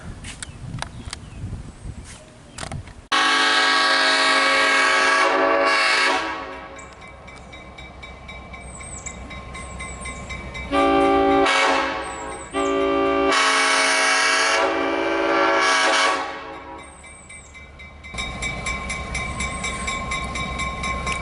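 A train rumbles by at a station as loud horn blasts sound in several long bursts, with shorter toots between and a steady mechanical hum underneath.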